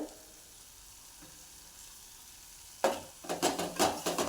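Oil sits nearly silent until black masala and chili powder drop into it, and then a sudden sizzle starts and a spoon stirs in quick, rhythmic scrapes, close and rising in loudness, with no speech.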